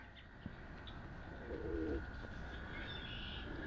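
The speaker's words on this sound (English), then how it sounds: "Just heard a very unusual bird call that I've never heard before." A soft, low cooing bird call rises briefly in the middle, heard faintly against steady outdoor background noise with no talking, on the Grand River Trail in Kitchener.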